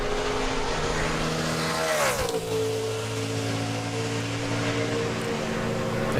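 NASCAR Sprint Cup stock car on a qualifying lap at Homestead, a loud continuous engine roar that shifts pitch as the car passes and then drones on steadily at close range. Nobody speaks.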